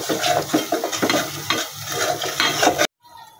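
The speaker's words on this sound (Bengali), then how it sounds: "এখন আমি একটু নেড়ে দিচ্ছি, মশলাটা ভালোভাবে একটু ভেজে নিচ্ছি।" Spice masala stirred and fried in a pan for a country-style spicy chicken bhuna, with steady sizzling and repeated scraping strokes of a spoon, close and loud, ending abruptly.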